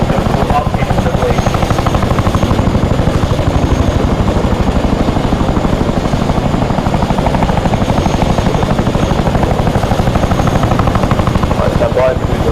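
A military helicopter in flight produces a loud, close, continuous rotor thump with rapid, regular beats throughout, while voices talk over it.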